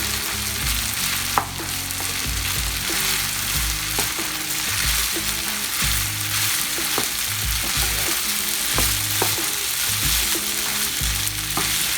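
Chopped white onions fry in a hot pan for shrimp fried rice, giving a strong, steady sizzle with regular stirring scrapes and clanks through the whole stretch, with no talking.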